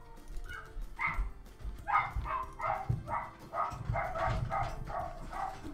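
Dogs barking in a quick run of repeated yaps and woofs, a few pauses between clusters, heard from a short distance over a low background hum.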